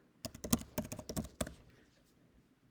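Typing on a computer keyboard into a search box, a quick run of crisp, close key clicks over about a second and a half that then trails off into quiet.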